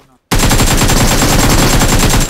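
Sustained automatic gunfire in PUBG Mobile, a rapid steady burst of shots running loud and close after a brief quiet start, with no talk over it.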